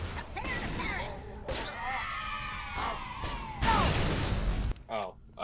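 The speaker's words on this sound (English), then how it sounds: "It chain reacted the nades on the ground." Grenades lying on the ground chain-explode in Halo 3: ODST, a run of loud, close blasts that crack in overlapping bursts amid battle noise and distorted alien chatter.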